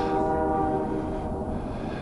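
A train crossing a distant railroad bridge, heard as a steady low rumble with sustained horn-like tones, continuous and far off in the background.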